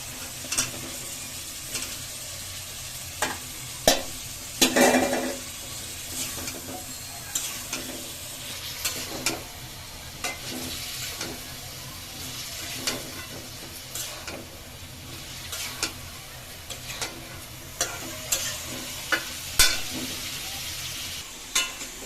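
Fried meat and green peas go into a spiced curry in a pan and get stirred, producing a sustained close sizzle punctuated by repeated clicks and scrapes of the spoon throughout.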